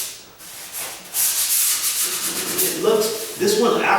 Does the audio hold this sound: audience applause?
no